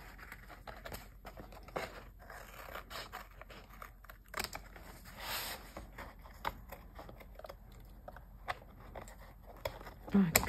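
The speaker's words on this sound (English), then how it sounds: "Let's get some scissors and trim this." Scissors trim a page in a kraft paper journal, with a series of soft, close snips and paper rustles spread across a quiet room.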